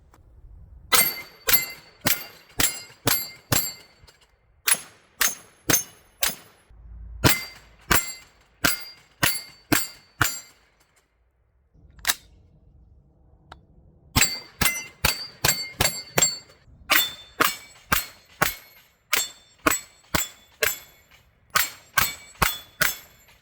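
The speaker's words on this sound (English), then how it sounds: "we're gonna shoot some steel" A 9mm carbine fires at steel targets ten yards away, each shot a sharp bright clang in quick strings of five to eight, split by short pauses and a brief lull near the middle, loud and with no talking.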